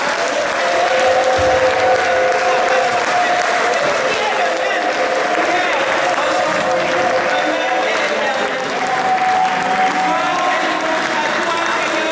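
A church congregation at an evangelism campaign gathering in Brussels applauds and cheers in praise. Dense, continuous clapping fills the room for the whole stretch, with crowd voices mixed underneath.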